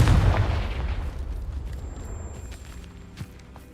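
Confringo fire spell exploding in Hogwarts Legacy, a single loud, deep boom that rolls off into a fading rumble.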